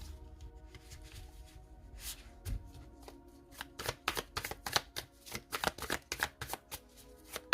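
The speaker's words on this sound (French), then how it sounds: "Allez, on étale le tarot." Tarot cards are shuffled and spread out, a close, dry riffle of rapid papery flicks that starts sparse, then speeds into dense bursts of slapping card edges.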